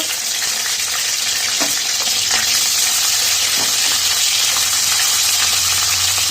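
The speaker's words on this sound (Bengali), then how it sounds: "এবার ক্যাপসিকামটা আর গাজরটা ভেজে নেব।" Capsicum and carrot frying in oil in a wok give a steady, loud sizzle that holds through the whole stretch, with a few brief clinks and stirring scrapes and no voices.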